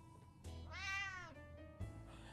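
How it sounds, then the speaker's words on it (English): Cat meowing in the video game 60 Seconds Reatomized: one long, clear, drawn-out meow near the middle, close and alone with no talk, followed by a short soft chirp. "what a nice little kitty"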